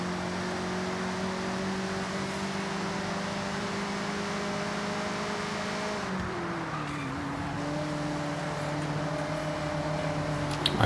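Car engine in Forza Horizon droning at a steady high RPM with little power, a sustained tonal hum that dips in pitch midway and then holds, with no voices over it.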